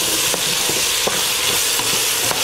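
Tomato paste fries in a hot pan, giving a steady loud sizzle, while a spoon stirs it and scrapes the pan bottom in short, regular strokes.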